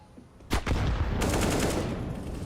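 A grenade blast hits a player during a professional Counter-Strike match: a sudden loud burst about halfway in, followed by a dense rattle of gunfire and action noise that holds steady to the end.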